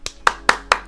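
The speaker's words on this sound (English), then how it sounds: "round of applause for boss." A person claps in a quick, even rhythm, about five sharp, close hand claps in a second, with no crowd.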